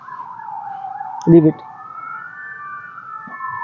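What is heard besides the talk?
siren sounding outside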